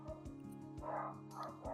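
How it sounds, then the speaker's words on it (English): Dogs bark and yip in quick, sharp bursts, several close together, some with a whimpering edge, fairly loud and with no talking over them. "Dogs."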